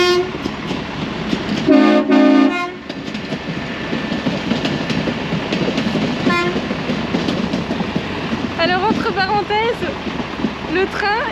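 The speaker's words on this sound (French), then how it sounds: "Le train, il nous klaxonne tous les jours quand il passe" A train horn blasts loudly for about a second, then a train rumbles past while voices chatter nearby, with a few bird-like chirps near the end.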